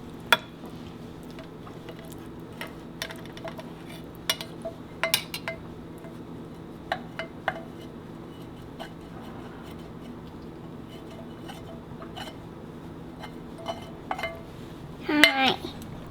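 Fluffy scrambled eggs are moved onto a plate with utensils in a home kitchen, giving sparse light clinks and scrapes of metal on dishware, spaced irregularly with a brief cluster of clatter near the end.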